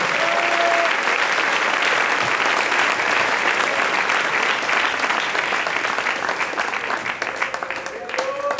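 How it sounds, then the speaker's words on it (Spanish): A Spanish-speaking church congregation applauds loudly during a sermon, a thick, continuous roar of clapping that thins slightly toward the end, with a voice faintly audible beneath it. "Dele ese aplauso al Rey."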